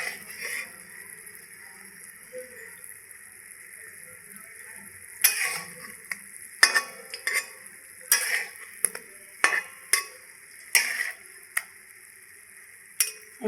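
Homemade crunchy bakery-style biscuits frying in hot oil while being turned over, a steady low sizzle broken by a series of sharp clinks and scrapes from the flipping utensil in the second half.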